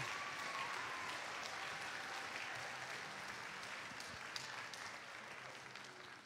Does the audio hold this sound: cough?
no